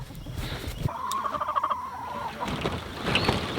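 Spooked egg-laying chickens on a homestead let out a drawn-out squawking call amid steady outdoor background noise, with scattered fainter clucks around it.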